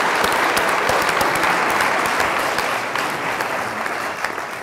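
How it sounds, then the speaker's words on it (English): Sustained audience applause for the University of Iowa president in a large hall, a dense, even roar of many hands that holds steady and eases slightly toward the end. "Could we all give President Mason another round of applause"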